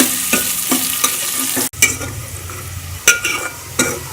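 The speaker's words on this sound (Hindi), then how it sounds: "और प्याज को हम हल्का ब्राउन कर लेंगे।" Onions frying in ghee sizzle steadily as they brown, with close spoon-stirring scrapes and clinks against the pan throughout.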